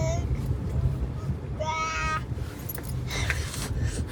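A cat inside a car gives a single drawn-out meow midway, set against steady road rumble and people chatting nearby; someone in the car may also be mimicking the meow.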